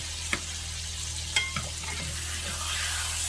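T-bone steaks fry in a hot pan with a steady broadband sizzle, broken by a few sharp pops and clatters as they are turned, close and fairly loud, with no talking.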